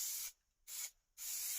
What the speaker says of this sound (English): use some heavy duty spray adhesive over the top of the